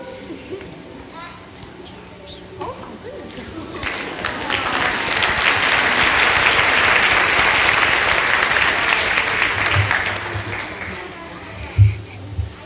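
An audience at a school holiday program breaks into applause that swells to a loud, dense peak and then fades, with children's voices and a thump near the end.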